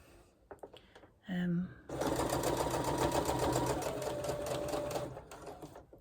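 A sewing machine stitching a fabric project bag runs in a steady, rapid mechanical whir for several seconds at close range, after a brief tonal beep and some handling clicks.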